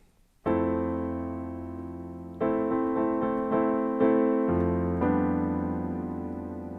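A piano plays the syncopated intro chords of a song slowly: one chord rings out, then a quicker run of struck chords follows, each left to sustain and fade, heard alone and close.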